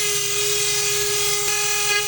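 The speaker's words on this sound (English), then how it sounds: "Just get the edges ground off" A power grinder takes the edges off a wooden Old Rugged Cross walking stick, producing a continuous, loud, high-pitched whine with a steady tone throughout.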